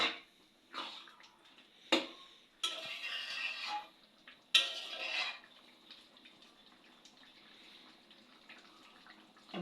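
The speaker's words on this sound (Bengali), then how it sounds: "মোচার ঘন্টের উপর জল কিছুটা দিয়ে ওটাকে নেড়ে নেওয়া হচ্ছে।" Spoon stirring mochar ghonto, a banana flower curry, in a pot after water is added, giving a few scraping and clinking bursts with watery sloshing at close range, fading to quiet rustling between strokes.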